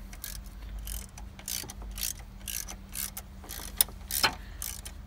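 A seized threaded part on a 2003 Bombardier Rally 200 ATV is wound out with a ratcheting tool, giving a close, quiet series of rhythmic clicking ratchet strokes with short pauses between them.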